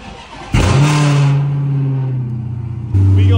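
A Dodge Hellcat with a ported supercharger snout fires up nearby after coolant bleeding and an oil change: a loud catch, a deep rumbling idle that settles, then a sharp rev at the end.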